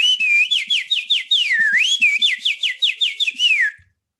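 A person whistles a bird call imitation, a close, loud run of rapid warbling trills and swooping notes lasting a few seconds, then silence.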